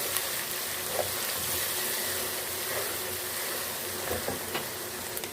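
Garlic and ginger sizzling in hot oil while being stirred: a steady, dense frying hiss with a few soft clinks of the spoon and no talking.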